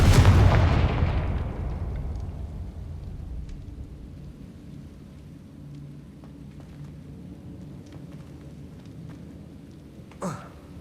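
A Confringo blasting spell erupts in Hogwarts Legacy: one loud, booming blast opens, then rolls away into a long rumbling decay, with a sharp smaller crack near the end.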